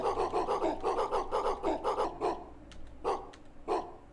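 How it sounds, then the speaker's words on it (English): A dog in the Fishing Shop Simulator video game barks in a quick run of sharp, evenly spaced woofs, then a few scattered, separate barks, fairly close and loud with no talk over them. "Hello, puppy."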